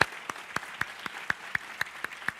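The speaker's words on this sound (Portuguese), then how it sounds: "Vamos dar uma forte salva de palmas ao Senhor." Crisp, evenly spaced claps ring out at a quick steady rhythm, about ten in a row, fairly faint and alone, during a church service.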